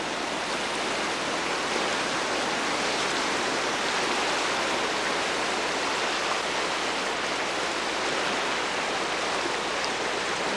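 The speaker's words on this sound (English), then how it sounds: "Class 5 Rapid!" A Class 5 whitewater rapid on the New River Gorge roars as a loud, constant wash of rushing water, broadband and unbroken throughout with no voices.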